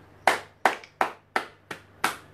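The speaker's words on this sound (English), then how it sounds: "I think I have to clap for myself." One person clapping hands, six sharp, close claps at a slow, steady pace with brief room decay after each, over a faint low hum.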